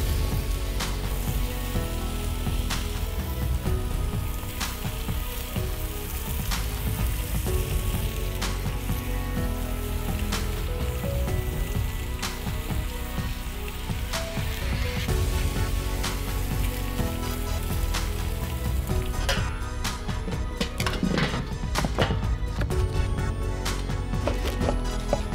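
Beef ribs cook over charcoal with a steady, dense sizzle and crackle throughout, loud and close, with sharper pops and brush-like scraping near the end as glaze is applied.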